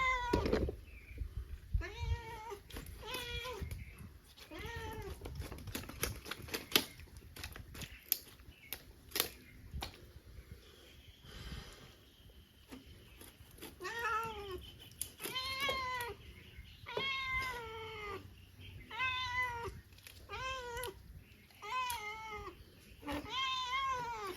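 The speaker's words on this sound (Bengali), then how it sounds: "বিলাই অস্থির মাছ দেখে জ্ঞান থাকে না" A restless cat meows again and again at fish, close and insistent, a long run of drawn-out cries broken by pauses and light clicking taps.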